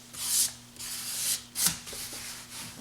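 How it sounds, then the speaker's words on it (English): Sandpaper wiped gently over rough, pilled patches of leather during a repair, giving several soft, close rubbing strokes with brief pauses between them. "you can just sort of gently, you know, wipe the sandpaper over the area like this"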